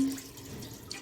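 Water runs steadily into a cooking pot on a gas stove to boil rice for chicken biryani, a continuous hissing splash at moderate level, with no voices.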